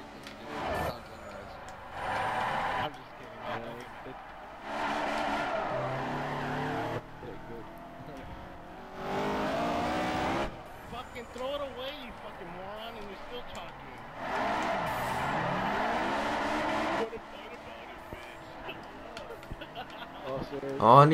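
A Honda S2000 drifts in Forza 4, its engine droning and rising in repeated surges as tires squeal through long slides, with a steady mechanical bed underneath.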